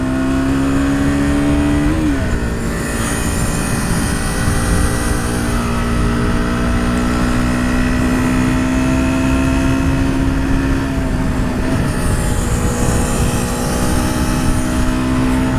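A motorcycle engine drones steadily while riding on a road, loud and close with a sustained tone that shifts slightly in pitch as the throttle changes, and wind noise runs throughout.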